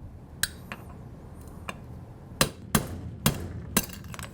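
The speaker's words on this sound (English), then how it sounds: "You're going to do that by using a 1/4-inch punch and a hammer." Sharp metallic hammer blows on a 1/4-inch punch, driving out the cam and shaft pins of a Dixon Bayco API adapter, a few scattered single strikes, then four louder evenly spaced hits close by.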